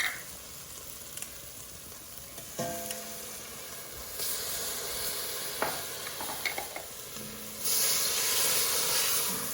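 Chopped garlic, onion and mushrooms sizzle in olive oil in a pan, a steady close frying hiss broken by occasional stirring scrapes and clinks, with bursts of louder spitting.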